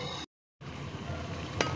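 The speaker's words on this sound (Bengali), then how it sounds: "এখানে রান্না বসিয়ে দিচ্ছি, পেঁয়াজ ভাজছি" Onions fry in a pan on a gas stove with a close, steady sizzle, broken by a brief silent gap and ending with a soft tap near the end.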